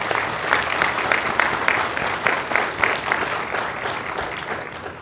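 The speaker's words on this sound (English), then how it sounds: "And let's give them a round of applause" Applause from an audience at a police department's Memorial Day service, a broad, sustained roar of many hands clapping together, loud and steady across the whole stretch with no voices over it.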